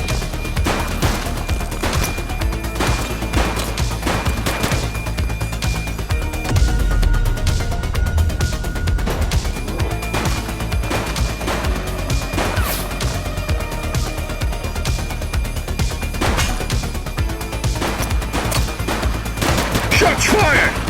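Gunfire in the police game The Precinct, dense and sustained shots running nearly continuously across the clip, loud and close, with a heavier burst of impacts partway through.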